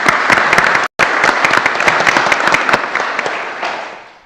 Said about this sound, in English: let us recognize you with a round of applause for you and your staff.